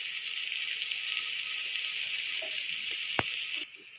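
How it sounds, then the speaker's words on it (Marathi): Tomatoes fry in a pan of hot oil for a spinach masala dal, a steady, fairly quiet hiss with one sharp click near the end before the sizzle drops away abruptly. "टोमॅटो आता हे मी व्यवस्थित फ्राय करून घेते."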